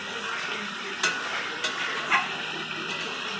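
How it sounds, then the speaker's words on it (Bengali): Mutton stir-fried in a pan, a steady close sizzle of frying meat broken by a few sharp scrapes and knocks of a spoon against the pan. "এবার মাংসটাকে আমি কষিয়ে নেব।"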